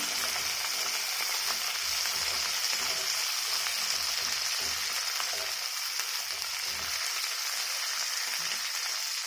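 Onions, capsicum and other vegetables crackle in a hot pan with a constant, loud, close sizzle, and faint stirring scrapes run underneath.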